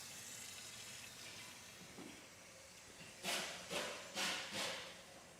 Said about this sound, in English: I'm just setting up the keg right now, so I'm going to rinse it out first